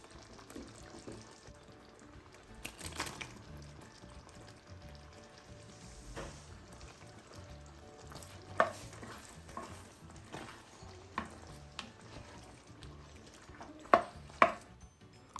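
Pasta being stirred into a creamy red herring sauce in a pan gives a steady low sizzle and bubbling, broken by occasional soft scrapes and sharper utensil knocks near the end.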